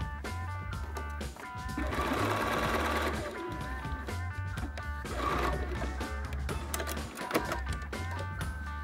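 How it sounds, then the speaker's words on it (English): Sewing machine stitching a sleeve tab down onto the shoulder seam of a refashioned maxi dress, a close steady rhythmic whirring run with slight changes in speed and no talk. "I'm gonna sew it down right on the seam on the machine"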